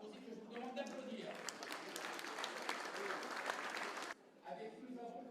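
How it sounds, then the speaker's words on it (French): Audience applause at a formal dinner gala, a dense sustained burst of clapping that swells for about four seconds then cuts off, with talk audible before and after. "président de la République, Nicolas Sarkozy, que je vous demande d'applaudir."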